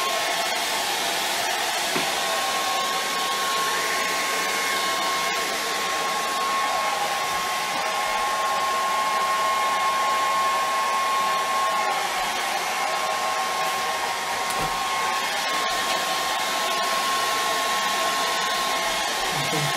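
A hair dryer blows steadily and loudly on damp paper during a charcoal and acrylic portrait, with a continuous even whir and no pauses.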